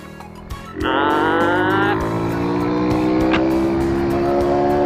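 A Honda Wave 100 motorcycle with an aftermarket exhaust pulls away loudly in second gear, its engine note rising steadily and holding a strong, buzzing drone close by.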